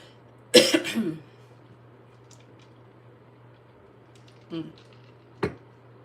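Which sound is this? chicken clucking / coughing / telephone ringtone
coughing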